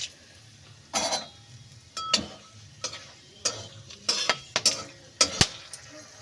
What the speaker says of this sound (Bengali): এবার আমি ওই একই তেলে একটা শুকনো লঙ্কা আর 2টো তেজপাতা দিয়ে দিলাম।